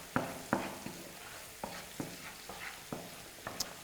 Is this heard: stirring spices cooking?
yes